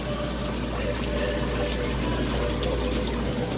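Water pours steadily inside the bin of a Hoshizaki ice machine that is not making ice and has an iced-up evaporator, a continuous close splashing rush with no pauses.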